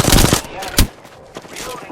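Gunfire in the video game Apex Legends: a loud, close burst of rapid shots followed by a few scattered single cracks over about two seconds, with no speech.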